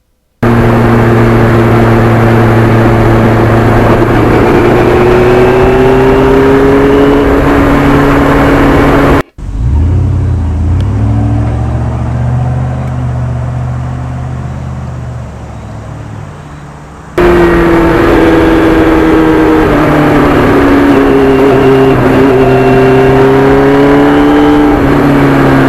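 Loud, steady engine drone from a 1991 Yamaha FZR 1000 motorcycle on the road, rising and falling through the gears, with a muffled, wind-heavy stretch in the middle before the full roar returns.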